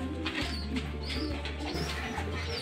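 Pigeons cooing close by in a loft, soft repeated low coos over a steady electrical hum, with faint chirps in the background and no talking.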